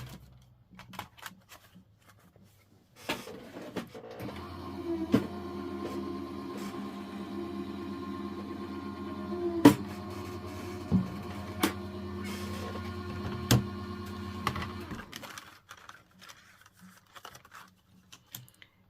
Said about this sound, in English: I'm going to tape that down, and I'm going to run this through the machine.